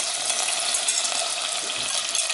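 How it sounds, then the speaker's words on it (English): Diced onion sautés in melted butter for a cheese sauce, making a dense, even hiss of frying that runs close and unbroken throughout with no talk. "we're just going to saute this for like 3 minutes"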